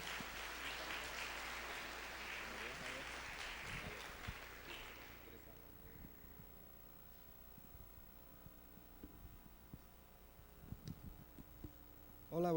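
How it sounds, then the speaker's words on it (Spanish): Applause from a church audience welcoming a speaker, a broad wash of clapping that is loud at first and then fades out after about five seconds, followed by quieter room sounds and a few faint knocks. "vamos a recibir a Pedro con un fuerte aplauso"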